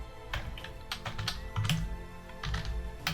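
Close, crisp keystrokes on a computer keyboard, typed during WordPress website building, come in quick irregular clusters with brief pauses and no talk.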